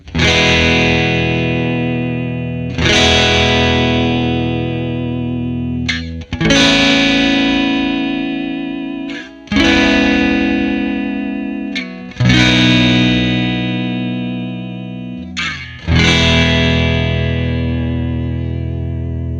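Electric instrument played through a Behringer UV300 Ultra Vibrato pedal, with six loud, sustained distorted notes or chords struck one after another, each decaying with a wavering, pitch-wobbling vibrato.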